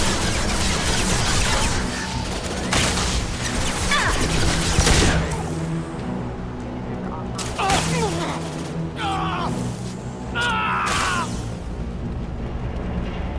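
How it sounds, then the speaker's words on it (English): Rapid bursts of gunfire and heavy impacts ring out in a Mass Effect 2 firefight, with loud clustered volleys for the first several seconds, then sparser shots and crashes over ongoing game noise. "Firing now."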